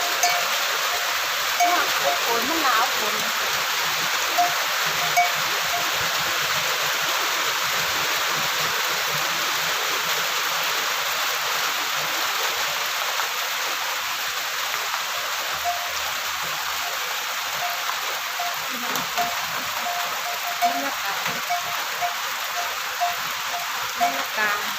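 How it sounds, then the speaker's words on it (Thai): Rain falling during wet weather while a grilled tomato chili dip is prepared outdoors: a steady, dense hiss of rain on surfaces, constant and fairly loud for the full length, with scattered drips and no clear speech. "บรรยากาศช่วงฝนตก"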